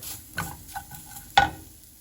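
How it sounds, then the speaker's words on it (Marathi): Fresh grated coconut being stirred and dry-roasted in a hot pan for Goan black chana ros, with a few soft scraping strokes and one sharper clack of the spoon against the pan. "तेजेर बरे भाशेन मिक्स करुया आनी बरे भाशेन आमी भाजून हाडया"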